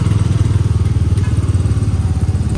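A motorcycle engine thumps steadily at a low, even idle-like rhythm while riding on a hill road trip, loud and close with faint background noise.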